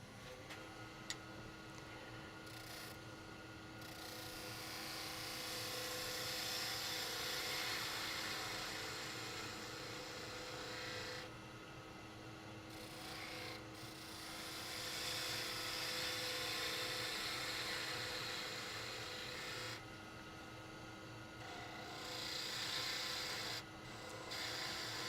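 A woodturning tool cuts a finial on a lathe in a workshop, giving a faint, steady scraping rasp in long passes separated by short pauses.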